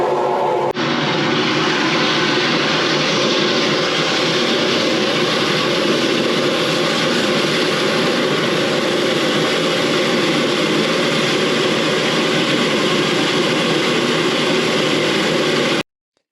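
A high-pressure water jetter blasts into a drain pipe at a fire station soakaway, a loud steady roaring hiss that runs unbroken for many seconds before cutting off abruptly.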